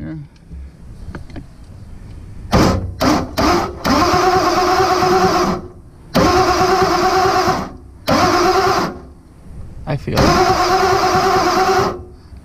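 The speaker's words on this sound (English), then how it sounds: "I'm going to spin the engine over." A Ford F-350 with a 7.3 IDI diesel engine cranking over in repeated bursts of a few seconds each, separated by short pauses, loud and close, with a voice speaking between attempts.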